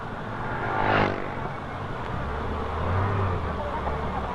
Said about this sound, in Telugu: కారు ఆపండి అయ్యా